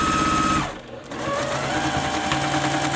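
A sewing machine stitches a floated quilt top with a steady, loud mechanical whir that dips briefly near the start, then resumes and runs evenly to the end, with no voices.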